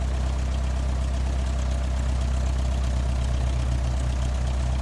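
An aircraft tug drives past a Challenger 650 jet on the ramp, giving a steady, loud low engine drone with a buzzing, small-propeller-like quality that holds constant throughout, with no talk.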